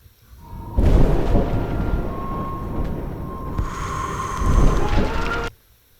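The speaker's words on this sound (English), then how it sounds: "there's the thunder and stuff which isn't in the initial track" Rumbling thunder opens a K-pop music video intro, a long low roll that swells in, holds steady, builds again near the end, then cuts off abruptly.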